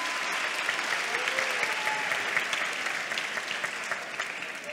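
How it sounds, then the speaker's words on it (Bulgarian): An audience at a school celebration performance applauds in a sustained, even wash of clapping from a large hall crowd, heard at a moderate distance and tapering a little at the end. "Аплодисменти отново за Рая, Ясен, Евгений, Владислав и Калоян."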